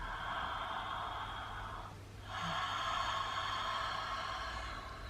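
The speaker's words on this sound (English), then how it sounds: "We're constricting the muscles at the back of the throat. So it's the feeling of breathing like this." Ujjayi ocean breath drawn through a constricted throat: a close, steady, breathy rush that pauses briefly midway before a second long breath, with no talking.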